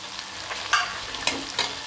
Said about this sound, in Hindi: देखिए हमारा कैसे बॉईल हो रहा है।